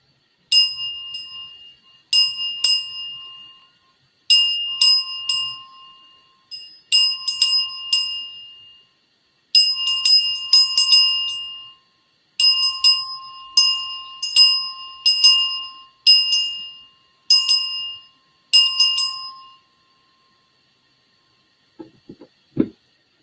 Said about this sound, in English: So I'm gonna ring the bell for the children